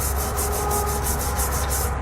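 Rhythmic scrubbing of a tube brush run in and out of rusty hitch bolt threads on a 2010 GMC Acadia frame, about a dozen quick, regular rasping strokes, close and loud with no talk.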